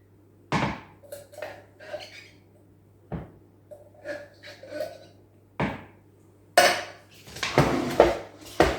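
A spoon clinks and scrapes in a pot while chicken broth and tomato pulp are stirred, making sharp metallic knocks and short scraping bursts at close range, then a louder run of clatter near the end over a faint steady hum.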